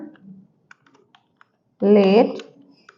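A few light, scattered clicks of typing code on a computer keyboard, quiet and sparse, followed by a short burst of someone speaking.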